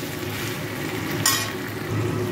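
Shukto vegetables sautéed with salt and a pinch of turmeric give off a low, steady frying hiss in the pan, with one brief sharp scrape or clink of a utensil, close up and without talk.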